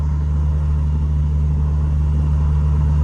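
A 1000-horsepower Cummins diesel truck engine drones steadily in a deep, constant rumble, heard from inside the cab while rolling along a road.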